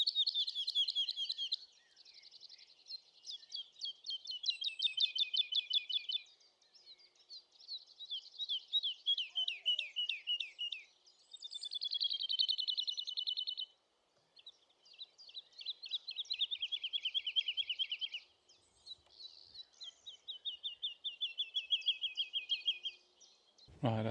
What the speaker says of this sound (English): I had a lovely pair of woodlark and a family of great spotted woodpeckers move through